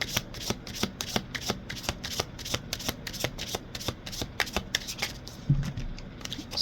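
Tarot cards are shuffled close up in a quick run of crisp riffling flutters and soft taps, repeated rhythmically for several seconds without talking.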